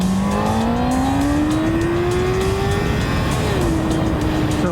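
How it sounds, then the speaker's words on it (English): A Honda CBR600RR motorcycle in first gear revs high and climbs steadily in pitch, then shifts down and drops, loud and close, with no talking. "if you really want to get that sound, like again, you've got to really be up there in the RPMs. We're in first gear."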